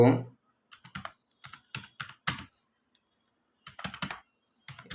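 Bursts of quick key clicks from a computer keyboard as C code is typed, close and crisp, in short clustered runs separated by brief pauses with a voice speaking faintly at the start.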